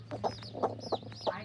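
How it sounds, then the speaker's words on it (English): Mother hen clucking softly beside two-day-old baby chicks, including booted Brahma chicks, in a run; a few short quiet clucks and peeps close by over faint background hum. "The mama hen becomes the brooder."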